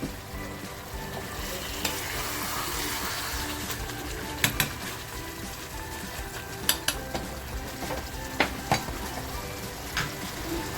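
Masala-marinated silverbar fish (karli) fries in a pan with a soft, continuous sizzle and crackle. Now and then a spatula or pan gives a light metallic clink.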